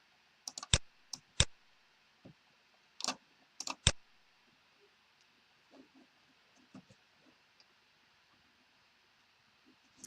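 Computer mouse clicks while a laser-cut badge is prepared in design software: a handful of sharp, close clicks in the first four seconds, some in quick pairs, then only faint scattered ticks in a quiet room.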